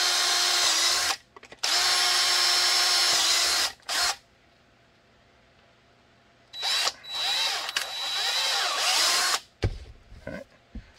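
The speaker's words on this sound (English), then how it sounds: "And we're gonna drill quarter inch holes." Power drill boring quarter-inch holes, held by cheap HDX clamps: two long loud bursts of whining drilling, a pause, then a third uneven burst with bites and a few clanks at the end.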